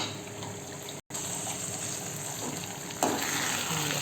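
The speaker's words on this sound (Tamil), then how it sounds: "எண்ணெயிலேயே வதக்கணுங்க." Onion and a ground masala paste of garlic, onion, tomato, cinnamon and cloves sauté in oil for an egg kurma gravy, a steady close sizzle with a momentary cut-out and a louder burst of frying toward the end.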